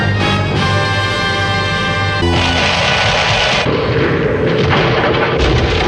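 Heavy, booming alien ship cannon blasts and sustained rumbling fire in the 1977 film War in Space dominate, dense and loud, with layered sci-fi weapon tones over a continuous roar.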